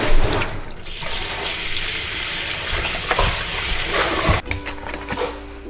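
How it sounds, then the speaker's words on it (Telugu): Duck meat rubbed with salt is washed under a running tap, giving a loud, steady rush of water with wet squelching and handling sounds, then an abrupt drop to softer splashes and clinks. "కొంచెం సాల్ట్ కూడా వేసుకుంటే మంచిగా స్మెల్ రాకుండా మంచిగా పిసుకొని మంచిగా కడిగేసుకోవాలి."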